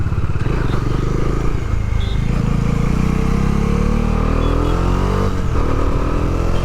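A Bajaj Dominar 400 motorcycle leaning through corners around Mysore, its engine droning loud and steady up close as the pitch rises and falls through the bends, with rushing wind behind it.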